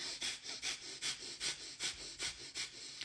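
Rhythmic, close breathing: about a dozen sharp, even breaths in quick succession, steady and forceful, with no talking.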